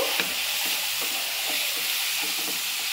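Chicken filling seasoned with turmeric, garam masala and pepper sautés in a pan with a loud, continuous sizzle and hiss, while faint rhythmic scraping of a stirring spoon recurs underneath.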